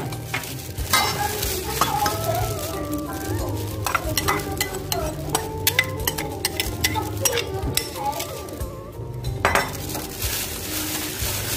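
Pork ear being tossed and squeezed by hand with a garlic, chili, lime and fish sauce dressing, giving steady wet squelching and stirring with clinks of utensils against a bowl, close and continuous, with a faint voice at moments.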